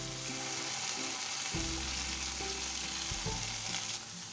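Chicken reshmi kebab pieces frying in a pan, a loud, close, continuous sizzle with a few shifts as pieces are turned, no voices present.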